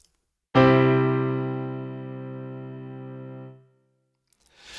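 A single sustained chord on a Casio Casiotone CT-S1 keyboard's standard piano tone rings out clearly, decaying slowly over about three seconds before cutting off, followed by a faint rustle.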